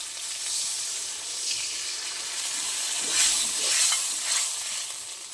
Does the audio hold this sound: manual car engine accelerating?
no